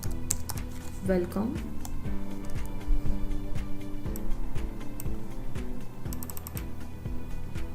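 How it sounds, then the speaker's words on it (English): Rapid keyboard typing clicks under a voice speaking over steady background music, keys tapping irregularly throughout. "For suppose I'm typing here"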